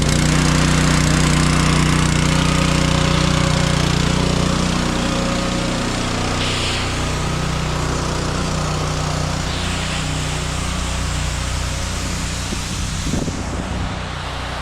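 A gas engine on a P40 softwash pressure unit runs loud and close, a steady droning roar that settles slightly lower partway through and holds for about fifteen seconds.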